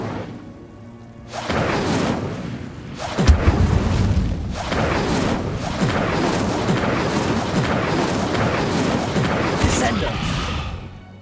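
An Incendio fire spell cast in Hogwarts Legacy, a whooshing blast followed by heavy booming rumbles and crackling impacts that continue for several seconds, with a voice calling out at the start.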